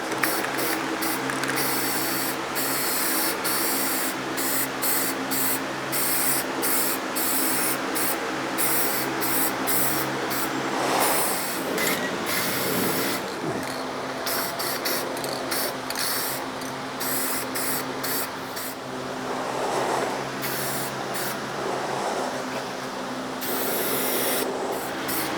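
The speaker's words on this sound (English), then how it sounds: "So I'm fixing to put the first coat on this and get these started." Spray paint hisses in repeated short and long bursts as a first coat goes onto metal planter box frames, close and steady, with faint rattling and clicking between passes.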